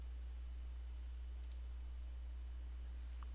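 A faint mouse click on an OK button in Civil 3D sewer-network design software, a tiny isolated tick or two over a low, steady hum with no talking.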